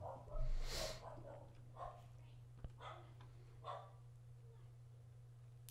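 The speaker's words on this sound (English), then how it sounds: "There's a dog barking." A dog barks a few times at a distance, the barks spaced irregularly over a steady low hum, with a faint voice nearby.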